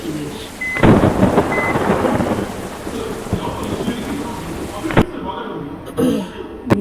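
Steady heavy rain hisses throughout with rumbling thunder beneath, from a thunderstorm in the game Bus Simulator Indonesia, and a voice speaks in Tamil over the downpour.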